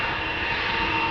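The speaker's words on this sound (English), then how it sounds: "another KLM A330 takes off" KLM Airbus A330, a 12-year-old jet bound for Houston, taking off at Amsterdam Schiphol: a loud, steady broadband engine roar held without a break, nearby and with no voices over it.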